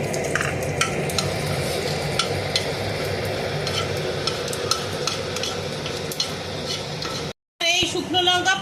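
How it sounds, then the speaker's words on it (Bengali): Dried red chillies and panch phoron fry in hot oil in a pan, giving a steady crackling sizzle with frequent sharp pops and occasional utensil clinks, nearby and continuous before a brief cut. "শুকনো লঙ্কা 5 ফোড়নটা ভাজা হয়ে গেছে।"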